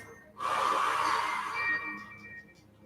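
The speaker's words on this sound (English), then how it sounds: "Take the deepest inhale of the night. Inhale through the nose. And then exhale through the mouth." A person takes one long, deep breath out through the mouth during a yoga cool-down. The breathy rush is close and fairly loud, then trails off softly over about two seconds.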